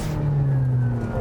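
Aston Martin Valhalla prototype hypercar with a 1,000 horsepower crossplane-crank V8, its engine note rising in a steady, loud rev with a strong low hum and no pauses.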